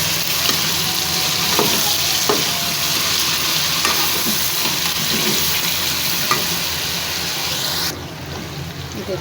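Grated tomato tipped into a hot pan for chicken pulao, a loud bright sizzle with stirring scrapes that settles and quietens toward the end.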